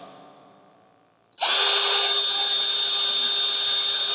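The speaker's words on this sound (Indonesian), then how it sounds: "Kita akan tebuk 2 lubang." A 12-volt cordless drill starts abruptly after a quiet moment and whirs steadily at high speed while drilling a hole, close and loud, running on without pause.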